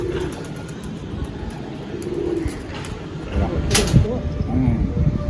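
Pigeons of an old Andhra high-flying bloodline with red Pilanka eyes coo in soft, low, repeated calls close by, with light knocks and general background noise around them.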